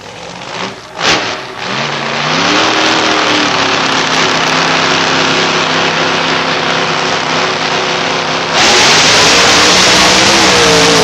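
A drag racing car at a Labour Day 1992 meet at London Motorsports Park pulls up to the starting line, its engine rumbling and revving in rising steps, then roaring louder and steadily near the end.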